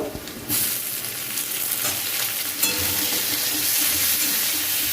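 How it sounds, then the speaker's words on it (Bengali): Tomato pieces frying with onions in a hot pan for a potato and long bean curry, a steady sizzle that jumps up sharply as the tomatoes go in, with light stirring scrapes and no talk. "এবার আমি এর মধ্যে দিয়ে দেব টমেটোর টুকরোগুলো।"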